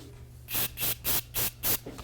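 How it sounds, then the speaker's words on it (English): A Paasche airbrush sprays black paint in five short hissing bursts of about a quarter second each, separated by brief pauses. The bursts are close and fairly loud, and there is no talk. "we're gonna spray it off here"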